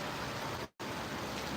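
Heavy, steady thunderstorm downpour in Effingham, Illinois, a dense continuous roar of rain that drops out for an instant before resuming at full strength.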